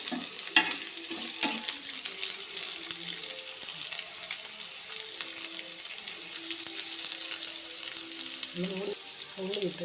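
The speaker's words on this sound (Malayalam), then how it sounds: "അതിലേക്ക് നമ്മൾ നേരത്തെ അരിഞ്ഞു വെച്ചിരിക്കുന്ന സവോള ചേർക്കുകയാണ് അതുകൂടെ വെച്ച് ചേർത്തുനിന്ന് ഇളക്കി കൊടുക്കണേ" Sliced onions fry in a pan for a mezhukkupuratti stir-fry, a steady close sizzle broken by scraping and clinking as a spoon stirs them, with a few louder knocks near the start.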